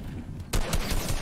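Fortnite gunfire in a video game: a quiet lull, then a sudden loud burst of shots followed by several more sharp reports in quick succession.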